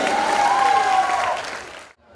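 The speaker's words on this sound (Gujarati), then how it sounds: "જોરદાર તાળી." A crowd at a cultural programme for a birth anniversary festival applauds loudly, a full dense clapping that holds steady before tapering off and stopping abruptly near the end, with a faint tonal hum under it.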